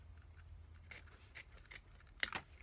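Scissors snip double-sided craft ribbon for a Christmas swag, making a few faint, soft cuts spaced about half a second apart in a quiet room, with a slightly sharper snip near the end.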